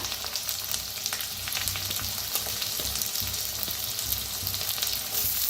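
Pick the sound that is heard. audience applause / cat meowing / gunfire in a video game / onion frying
onion frying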